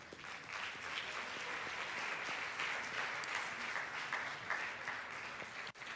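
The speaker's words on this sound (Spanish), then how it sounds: "Démele un aplauso al Rey de Reyes." A church congregation applauding at a Spanish-language service, a fairly distant, steady patter of many hands clapping at low level, with a sharp knock near the end.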